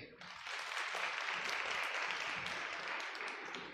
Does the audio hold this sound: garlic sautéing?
no